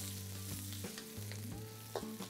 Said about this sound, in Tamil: இதை நல்லா வறுத்து விடுங்க